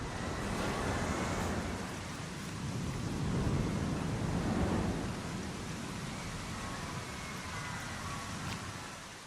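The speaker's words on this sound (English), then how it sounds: "now it's a torrential downpour" Torrential downpour in the video game Planet Coaster 2: a dense, steady roar of heavy rain with low rumbling swells like distant thunder, fairly faint and continuous throughout, with no talking.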